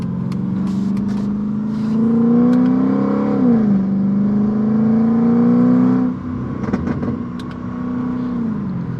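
A Mercedes C55 AMG's V8 with straight-pipe exhaust, Kleemann headers and valved mufflers revs up and holds a throaty, rumbling drone, pitch rising and falling, then settles back to a lower burble with a few crackles.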